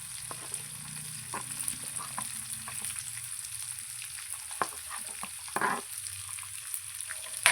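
Chopped onion, curry leaves and chilli fry in oil in a pan for a South Indian bun dosa. A steady close sizzle runs throughout, broken by occasional clinks and scrapes as the mixture is stirred.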